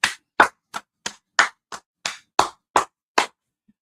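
Ten sharp, separate claps come at an even, steady pace from a small group or a single clapper at a gathering, loud and close, with silence between each one.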